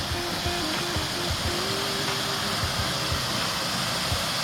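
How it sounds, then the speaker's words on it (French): Waterfall on the way to a cave, a steady broadband rush of falling water heard close and continuous throughout, with no voices over it. "on passe par une magnifique cascade"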